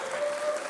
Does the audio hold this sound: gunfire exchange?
no